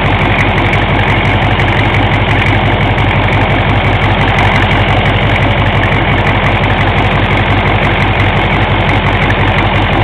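A warm 6.5L turbo diesel engine idles steadily with a rough, rhythmic clatter, loud and close, running without pause throughout, with slight blow-by.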